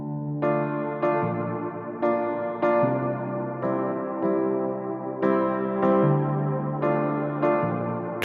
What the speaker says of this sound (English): In the verse we start with this piano.